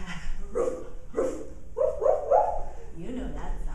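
A human voice imitates a dog barking during a parent-and-baby yoga session, a series of short rhythmic woof-like syllables delivered up close in a playful tone.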